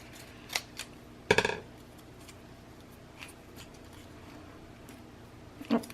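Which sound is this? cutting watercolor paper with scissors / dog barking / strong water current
cutting watercolor paper with scissors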